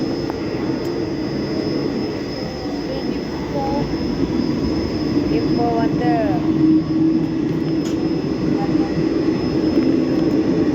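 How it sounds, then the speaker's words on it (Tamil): A steady rumbling clatter of a moving train from Chennai to Kerala fills the whole stretch, with a person talking over it. "ட்ரெயின் மூவ் ஆகிட்டு ஸோ போவோம்."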